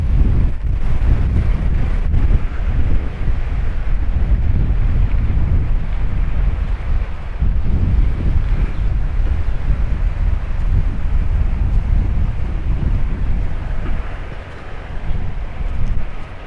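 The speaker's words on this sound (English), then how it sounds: "Wind's picking up again." Strong wind buffets the microphone on a street in Paphos, Cyprus, a constant loud low roar with gusty swells throughout and no one speaking.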